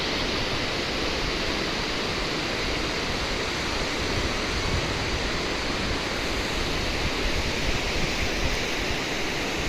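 The Alaknanda river flows at the Karnaprayag confluence with a constant, loud, dense rushing roar of water, steady and unbroken throughout, with no voices.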